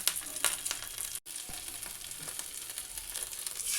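Spices with ginger and salt frying in hot oil for a vegetarian ash gourd dish, giving a constant crackling sizzle with sharp spattering pops and one brief gap.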